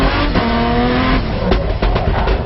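A Scion FR-S drift car fitted with an anti-lag system and a Holinger six-speed transmission roars loudly at high revs, with sharp bursts and tire squeal running continuously at close range.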